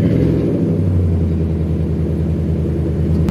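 A Nissan Titan pickup idling with a new MBRP muffler exhaust, a deep, steady rumbling drone close by and continuous, with a slight swell in pitch partway through and no talking.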